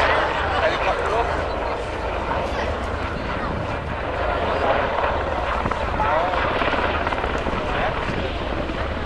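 A helicopter's steady rotor roar fills the scene at the Cosford Airshow, close and loud, with faint voices underneath.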